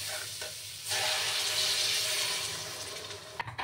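Water poured into bottle gourd dal in a cooking pot, a close, steady rushing splash that holds for a few seconds before a couple of utensil knocks.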